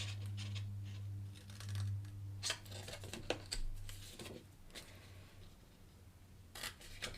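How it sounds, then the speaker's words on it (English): Scissors snip the corner tab of a paper gift box in a run of quick close cuts and rustles, with a low steady hum underneath. "we're going to cut out this corner,"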